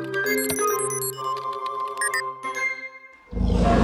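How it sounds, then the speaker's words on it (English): A cartoon sound effect in a children's animated vehicle show, heard as a jangling, tinkly musical burst that ends in a sudden loud, rough, dinosaur-like roar. "And that sounded like a dinosaur."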